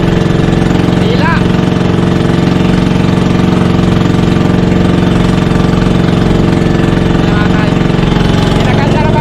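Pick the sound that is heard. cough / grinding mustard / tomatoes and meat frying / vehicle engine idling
vehicle engine idling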